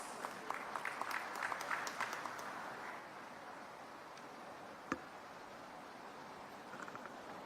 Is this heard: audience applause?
yes